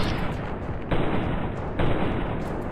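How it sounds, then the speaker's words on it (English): Gunfire in Fallout: New Vegas: heavy, booming shots land at roughly one-second intervals, loud and close, with dense noisy bursts and no voices over them. "Gonna have to shoot him in the leg."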